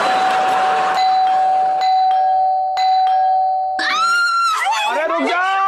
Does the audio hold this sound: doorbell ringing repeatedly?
yes